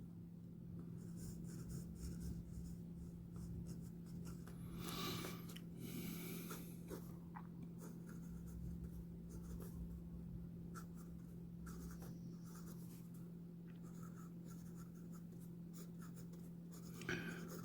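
A Gioia Metis fountain pen with a #6 steel 1.1 stub nib scratches steadily across paper in a writing sample, close and quiet, with soft strokes and pauses over a low background hum.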